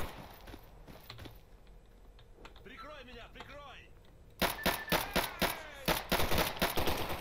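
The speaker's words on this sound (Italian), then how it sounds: "stanno a cominciare a sparare" Gunfire in STALKER Anomaly, a quiet stretch of scattered faint shots giving way midway to a loud, close burst of rapid automatic fire with several rattling volleys.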